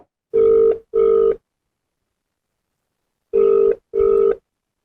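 An unanswered telephone call rings out on the line: two clean double-pulse ringback tones separated by a long silent gap, loud and close with nothing else audible.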